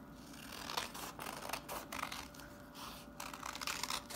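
Scissors snip through paper while a heart shape is cut out, faint repeated cuts over a steady background hiss, close and without talk.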